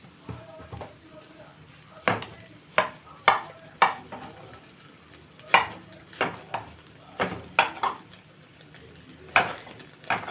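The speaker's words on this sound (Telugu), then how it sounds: "మనం ఇందులోనే మనం ముక్కలు కట్ చేసేసుకుందాం" An egg omelette being cut into pieces inside the pan, with a series of irregular sharp scraping clicks of utensil against metal, close and distinct over faint background sizzle.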